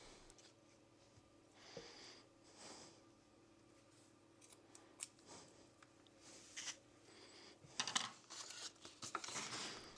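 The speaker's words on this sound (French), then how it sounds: "Coupez ensuite un bout de ficelle plus grand que la taille de votre masque." Scissors snip a piece of string while a cardboard mask is being made, several quiet crisp cuts and rustles spaced irregularly and growing busier toward the end, close and faint.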